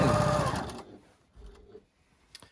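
A sewing machine chain-piecing large quilt pieces runs in a steady loud burst at the start, then stops, followed by brief quieter handling noises.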